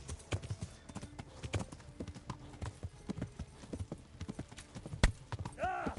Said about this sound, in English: I hear the horses.